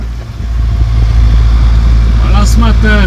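Sailboat motoring under diesel engine power near Samos in light wind, a steady low engine drone running loud and continuous throughout, with a voice speaking over it near the end.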